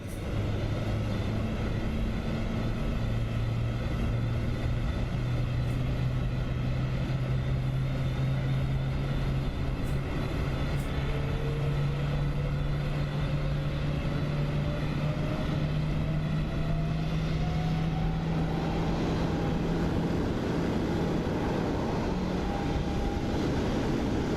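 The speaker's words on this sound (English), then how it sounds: "You'll be able to hear the engine sounds now." Boeing 777-300ER jet engines simulated in MSFS 2024 roar steadily throughout, a broad continuous rumble with a low whine that slowly rises in pitch, loud and without talk.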